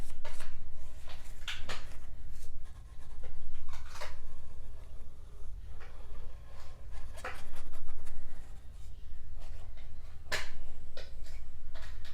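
A cat plays with a piece of paper nearby, producing intermittent crinkling and scraping rustles in short bursts over a low steady hum.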